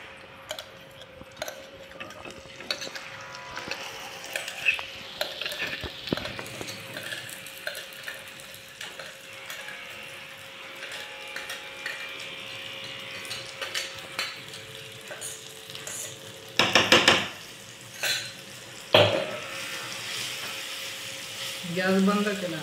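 A spoon stirs raw mango chutney in hot oil, with a steady sizzle and repeated scraping strokes against the pan, a few sharper clinks of utensil on metal near the end, and occasional faint voices.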